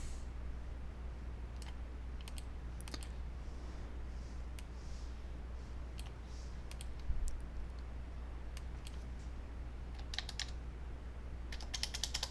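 Numbers are typed on a computer keyboard in quick bursts of light, faint key clicks over a low steady hum, with irregular pauses and a denser flurry of taps at the end.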